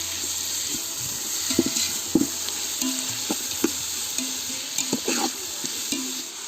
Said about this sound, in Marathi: आता हे पण आता परतून घेतो आहे